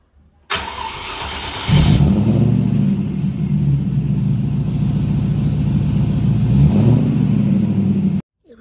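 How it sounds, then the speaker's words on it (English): A Rover 4-liter V8 starts and settles into a deep, steady idle. It revs up toward the end and then cuts off, loud and close with no talking. "its V8 has a lovely sound"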